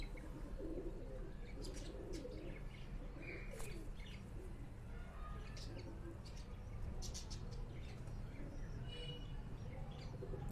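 Old Sialkoti breed pigeons coo softly at a loft in Rawalpindi, with scattered chirps and a few wing flaps over a low background rumble. There is no talking.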